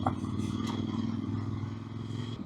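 Adventure motorcycle coasting down a hill on the rear brake at a beginner training day, with a steady low engine rumble and light mechanical clatter throughout, no talk.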